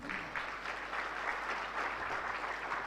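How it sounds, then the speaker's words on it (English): A room full of people at an official opening ceremony applauds, a dense, steady wash of many hands clapping at even strength from start to finish, with no voices over it. "Ladies and gentlemen, a warm round of applause,"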